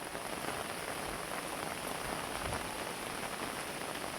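Heavy rain pours down in a close, steady hiss that stays level and unbroken throughout, with no voices.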